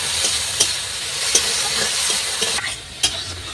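A spoon stirs a salted mixture in a pan with repeated scraping knocks over a steady loud sizzle, close and without talk.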